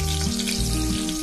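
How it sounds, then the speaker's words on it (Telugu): Green chilli and curry leaves fry in hot oil for chicken biryani, a loud dense sizzle with a steady crackling hiss that fills the whole moment without pause. "కొంచెం ఫ్రై అయిన తర్వాత పండుమిర్చి కానీ పచ్చిమిర్చి కానీ ఒకటి తీసుకొని అలా కట్ చేసి వేసుకోండి"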